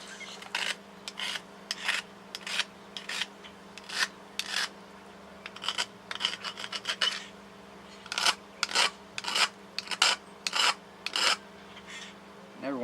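A file rasps over a flintknapping tool in short, regular back-and-forth strokes, about a dozen bursts with brief pauses, loud and close, under a low steady hum.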